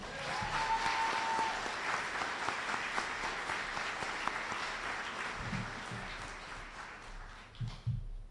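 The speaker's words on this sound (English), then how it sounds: "And a round of applause for Shakira Taylor." Sustained applause from a large crowd at a graduation ceremony, steady and full throughout, thinning out near the end.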